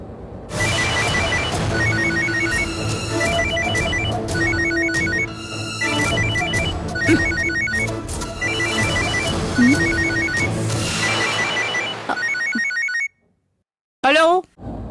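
A telephone rings in a Tamil TV serial drama, a loud repeating electronic ringtone trilling in short regular bursts for about twelve seconds over a busy background, then cutting off before a brief noise.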